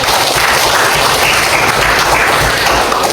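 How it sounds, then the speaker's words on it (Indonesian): A classroom of students claps together, a loud, dense, continuous burst of applause that fills the whole stretch without any talking. "Beri dulu tepuk tangan."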